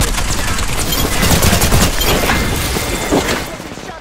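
Gunfire from the Apex Legends video game: a dense, continuous spray of shots and impacts, loud and close, running through most of the stretch before easing off at the end.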